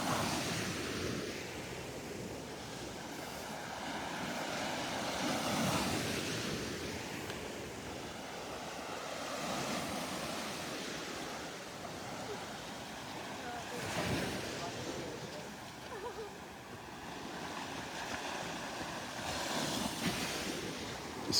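Surf rolls onto a Gulf beach at Delnor-Wiggins on a busy winter morning, a steady wash of breaking waves with swells every few seconds, mixed with wind buffeting the microphone and faint distant voices.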